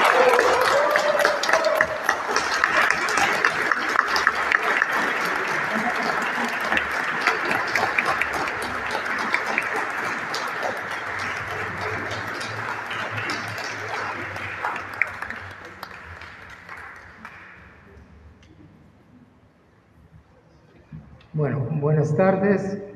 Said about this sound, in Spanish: Un aplauso para Álvaro ahora aquí.